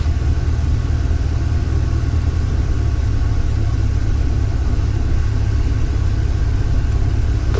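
Cessna 172M piston aircraft engine throttled back to about 1100 RPM during a pattern approach: a steady, loud, low droning hum with constant rumble throughout, no voices.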